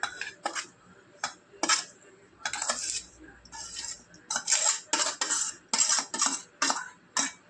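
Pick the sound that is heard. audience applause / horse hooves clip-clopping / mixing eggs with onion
mixing eggs with onion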